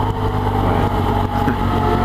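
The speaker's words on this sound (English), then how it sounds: "Hear a race going on now." Motorcycle racing at Silverstone circuit during a support race at the 2015 British MotoGP Grand Prix: a steady, loud engine drone from bikes on track, continuous with no pauses or voices.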